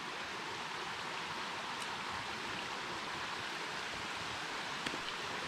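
Water of Tonto Creek runs past pools in the creek bed, a constant broad rushing wash that holds steady from start to finish, close and unbroken, with no talking.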